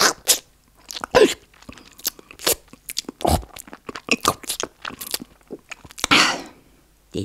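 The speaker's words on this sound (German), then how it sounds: "Eifrig hat Mirabelle angefangen, mampfen und schmatzen, bis der ganz Korb leer war." A storybook dragon munches and smacks on food, with a rapid string of wet crunching, biting and chewing sounds, loud and close, coming in irregular bursts with short pauses.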